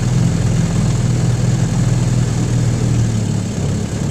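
An antique 1953 Firestone outboard motor runs steadily, a loud, continuous droning buzz with a rough low throb that dips slightly near the end.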